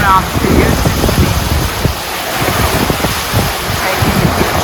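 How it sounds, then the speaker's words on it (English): Busy morning ocean waves surge and crash around a sailboat, with heavy wind buffeting the microphone and a continuous, fairly loud wash of surf throughout. "the ocean is so busy, moving, and waves are crashing around beautifully"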